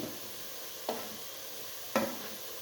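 Coriander and chilli powder stirred into a chicken curry frying in a pan, a steady sizzle broken by two sharp spoon scrapes against the pan.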